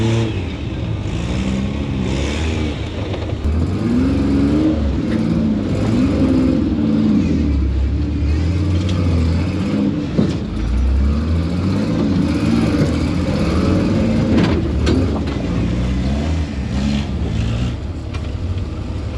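Pathmaker rock crawler buggy engine labouring up a dry rocky Easter trail, a loud close growl that rises and falls as the throttle is worked, steady throughout with brief revs and no talking.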